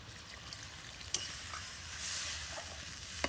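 Water poured into a pan of fig and potato curry frying with spices, a quiet steady sizzle and hiss with a few soft clicks and splashes, fairly faint.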